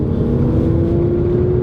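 A 2018 Mercedes-AMG C43 Coupe 4MATIC in Sport Plus mode gives a loud, steady, low exhaust drone with a sustained tone, close and alone with no talking.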